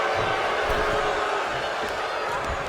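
A displeased wrestling crowd at a community wrestling event fills the arena with a continuous loud murmur and rumble, with scattered thuds from the ring underneath.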